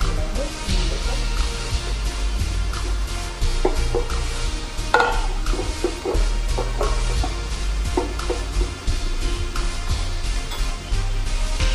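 Maida flour being sifted through a sieve for a chocolate cake, a steady soft rustling and scraping with occasional taps and clinks of the sieve and bowl, close and continuous.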